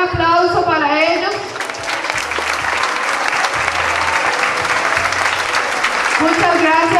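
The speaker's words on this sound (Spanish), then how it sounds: "les pido a todos ustedes un gran aplauso para ellos" An audience at a school festival opening ceremony gives a big round of applause, loud, full clapping sustained throughout with crowd noise beneath it and a short voice at the start.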